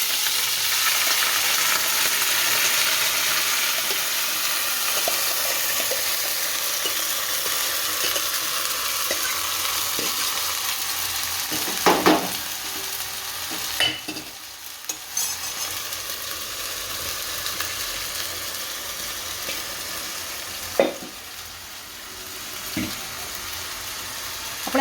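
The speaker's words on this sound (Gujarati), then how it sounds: "આ લસણ હાવ કાઢી દઈશ, હવે દાળ નાખીશું।" Moong dal stirred into a hot tempering with garlic and cloves for Gujarati-style separate-grain dal: a steady sizzle with scraping stir strokes and a few sharp clinks of a spoon on the pan, no voices.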